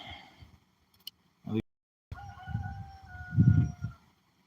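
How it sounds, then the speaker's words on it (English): Chickens cluck and a rooster crows nearby in a quiet outdoor setting in southeast Missouri, with a few scattered bumps and a long crowing call toward the end. "You hear the chickens"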